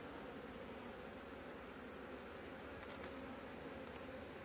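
Honey bees hum in a steady, dense buzz from an opened hive full of bees, a continuous even drone with no talking over it.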